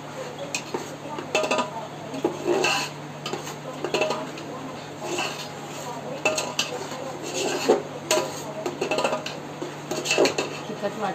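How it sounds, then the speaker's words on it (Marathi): Spoon stirring a chicken biryani masala mixture in a metal pot, with repeated scraping and clinking of metal against the pan at a steady, near pace, over a faint background hum. "हे व्यवस्थित ढवळून घ्यायचं आहे"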